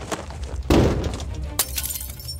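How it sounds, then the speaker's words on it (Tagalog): A glass sound effect in an audio horror story: a sharp, loud smash and crash of breaking glass followed moments later by a second heavy impact with scattering debris, close and without talk. "Sinundan yon ng malakas na tunog ng salaming nabasag at ng isa pang mas malakas na kalabog"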